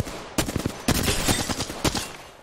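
Bursts of rapid automatic weapon fire in the battle royale shooter Apex Legends, several loud close volleys in quick succession with short gaps between them.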